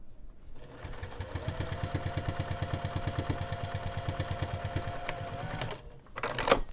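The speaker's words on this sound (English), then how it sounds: "here goes the second line of stitching" A sewing machine running a line of stitching on a bag flap at a 3mm stitch length, a rapid, steady mechanical thumping that runs for several seconds, then stops with a brief clatter of handling noise.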